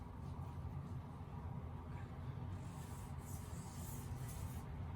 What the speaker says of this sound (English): you rub the picture with the new chemical